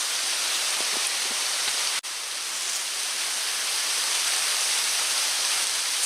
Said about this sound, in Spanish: Hemos llegado a la cascada de Riondo.